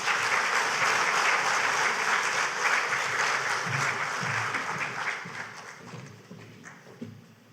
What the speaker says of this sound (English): So give him another round of applause for that